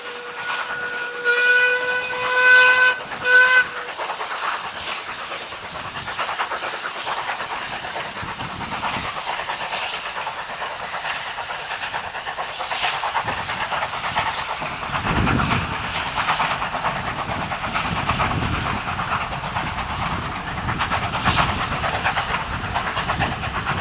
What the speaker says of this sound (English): Traversing the embankment at Ropley Lodge, Metropolitan Railway number 1 passes by with the 12:50 p.m.